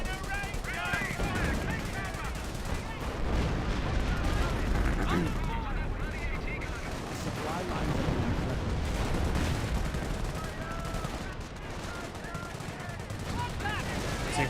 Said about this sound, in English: Officer artillery being brought on in.